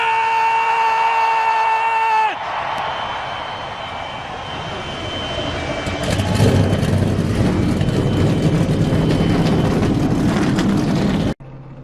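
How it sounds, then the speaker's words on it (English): Stock-car engines fire up for a NASCAR-style race at Richmond in the iRacing sim. A steady tone gives way to a loud, rough engine roar that builds and thickens midway, then cuts off abruptly. "And the engines are fired up as here we go."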